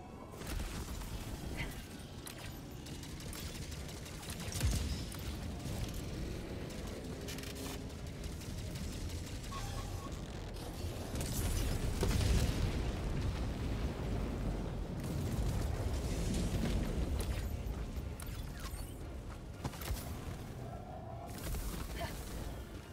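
Heavy booming blasts roll through a Helldivers 2 battle, a dense low rumble of explosions sustained over about twenty seconds, swelling louder midway with scattered crackling bursts.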